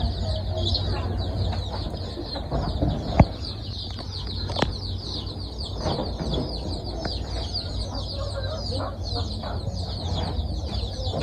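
Adult hens and small chicks in a small household coop cluck and cheep continuously, with a steady chorus of high peeps over low clucks and a couple of sharp knocks.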